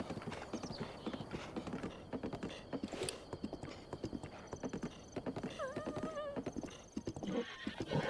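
Horse in Breath of the Wild trotting with steady rhythmic clip-clop of hooves throughout, joined by a clear whinny around the middle, close and moderately loud with no talking.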